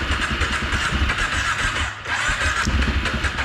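Kawasaki Brute Force ATV engine cranking and sputtering on a cold start, a rough, uneven mechanical churn at moderate volume with a brief dip partway through.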